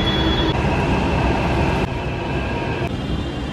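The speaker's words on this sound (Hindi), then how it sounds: "मेट्रो आ गई चले।" A Delhi metro train rolls into the station with a steady, loud rumble and faint high whine, the noise dipping slightly as it slows, with no talking.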